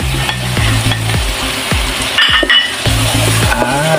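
Tomatoes sautéing in a hot pan give a loud, close sizzle, with a spatula knocking and scraping the metal roughly every half second in a steady stirring rhythm and some light clinks.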